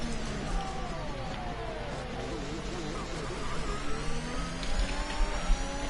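A racing video game car's engine heard on board through a lap, a steady loud drone whose pitch climbs and drops with shifts and corners, with commentators talking over it.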